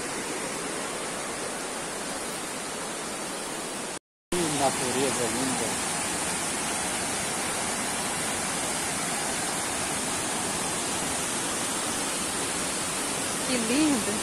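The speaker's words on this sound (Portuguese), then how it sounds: "resolvemos dar uma paradinha para conhecer uma cachoeira, lindíssima cachoeira" A waterfall in Faxinal, Paraná, gives a dense, steady roar of falling water, loud and constant apart from a brief cut, with faint voices speaking under the rush.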